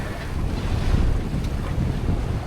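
Sailboat under a full jib in open-ocean wind, a steady broadband rush of wind and water noise with gentle swells of loudness, no voices.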